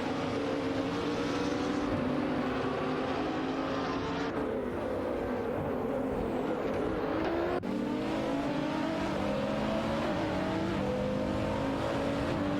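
GT3 race cars, including a BMW Z4 GT3 and Renault Sport RS01 GT3, roar around a track in a racing video game, layered engine drones rising and shifting in pitch with gear changes, loud and continuous without speech.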